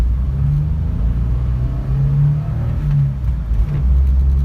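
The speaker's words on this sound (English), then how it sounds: "now let's tackle this hill. First gear." A kei van climbs a hill in first gear. The engine drones loud and close with a steady low rumble and slight rises in pitch as it pulls. No voices.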